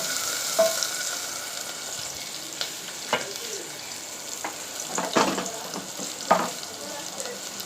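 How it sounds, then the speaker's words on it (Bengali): Onion frying in oil left over from browning eggs for an egg and potato curry, a steady close sizzle with occasional stirring scrapes and clinks throughout. "তার মধ্যে ওই তেলের মধ্যে পেঁয়াজটা আমি দিয়ে দিয়েছি"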